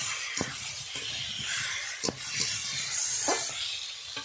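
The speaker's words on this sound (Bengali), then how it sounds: "ওর মধ্যে ভেজে রাখা আলু এবং খামগুলো দিয়ে দেবো। দিয়ে কিছুক্ষণ ধরে কষে নেব।" Fried potatoes and yam being stirred in cooked spice paste in a pan, giving a steady hiss and sizzle with a few sharp scraping knocks near the start and middle.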